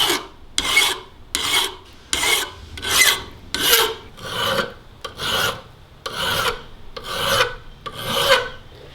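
A file rasps steadily across the steel of a forged spoon carving knife as a bevel is cut, with about a dozen rhythmic back-and-forth strokes, close and loud, and no talking.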